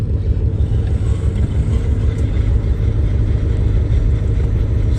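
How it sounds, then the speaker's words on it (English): An old Toyota Cressida is driven, filling the cabin with a loud, continuous low rumble and rough grinding drone that holds steady for the whole stretch, with no talking. "Something's grinding."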